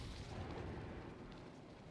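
An in-game explosion from bombing while gliding in Batman: Arkham Knight, a loud, sustained wash of rumbling blast noise lasting the whole two seconds with no voices.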